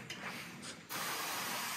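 A sprayer wets down a stone wall ahead of lime pointing during chateau restoration. A loud, steady hiss of spray starts partway through and holds to the end, after a quieter, patchier stretch.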